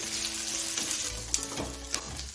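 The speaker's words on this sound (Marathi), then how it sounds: "आपला पूर्ण कांदा सोनेरी कलर येईपर्यंत भाजून घ्यायचा आहे" Onion masala frying on low heat for kat vada, a steady close sizzle with a few sharp spatula clicks against the pan near the end, no talking.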